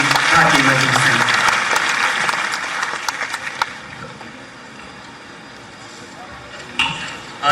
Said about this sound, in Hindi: जोरदार तालियों से पुनः अभिनंदन करें माननीय महामंत्री भारतीय मजदूर संघ।